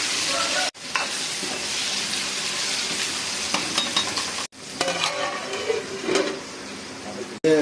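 Shallots frying in a pan while being stirred, a loud steady sizzle with scraping spoon movements, broken by a few abrupt cuts.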